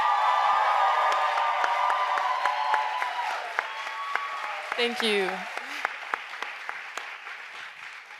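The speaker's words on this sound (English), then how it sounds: "Can you just give a huge round of applause to Willow one time?" An audience applauds Willow with a dense, sustained round of clapping that slowly fades, with a few cheers and a brief spoken thanks partway through.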